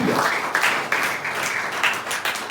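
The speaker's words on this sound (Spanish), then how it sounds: "Denle un aplauso al Señor." A church congregation at a Bible church service bursts into applause, brisk rhythmic clapping with repeated surges, loud and close for a few seconds.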